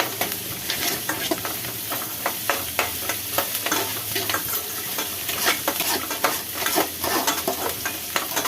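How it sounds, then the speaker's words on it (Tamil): Peanuts and curry leaves sauté in a hot pan for coconut rice, giving a constant loud sizzle and crackle broken by repeated scraping stirs of a spoon against the pan, with no talking. "இப்போ இதையும் சேர்த்து நல்லா வதக்கிக்கலாம்."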